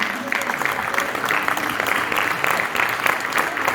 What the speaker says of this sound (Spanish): brindemos un gran aplauso a ellos